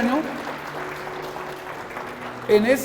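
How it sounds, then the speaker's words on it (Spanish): Scattered applause from a church congregation sits under a faint background voice, with a preacher starting to speak again near the end. "aplauda al Señor"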